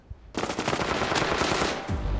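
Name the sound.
gunfire in a video game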